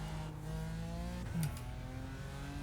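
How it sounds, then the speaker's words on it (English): Race car engine in the iRacing sim, a Skip Barber or Ferrari D class car, droning steadily with a harmonic note that dips as it shifts near the middle, then climbs again under load. "I love the engine note though"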